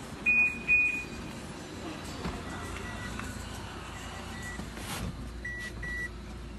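A Toyota Wish with a keyless smart alarm system chirps twice in quick succession as it auto-unlocks, followed by softer, fainter beeps a few seconds later over quiet outdoor background.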